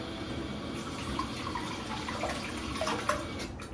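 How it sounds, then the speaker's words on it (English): Water running from a sink tap in a hotel bathroom in Takayama, Japan, a steady hissing splash into the basin with small drips and clinks, heard close and moderately quiet with no talking. "Let's get a little bit more water in here."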